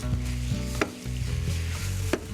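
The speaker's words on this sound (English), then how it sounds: "We'll give our eggs a stir." A pan of chorizo sausage egg scramble being stirred, the spatula scraping and knocking in a few quick strokes over a steady sizzle, close and moderately loud.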